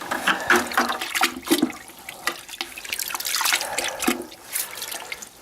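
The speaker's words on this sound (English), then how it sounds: "But the water is cleaning it up." Running water splashes and trickles while rinsing spilled seat glue off a freshly painted part, a steady wet rush with drips and small splashes close by, no talking.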